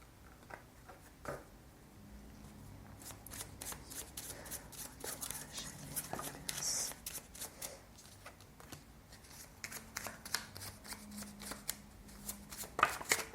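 Tarot cards being shuffled by hand, a long run of quick papery riffles and flicks, close and quiet, with brief pauses and a busier burst toward the end.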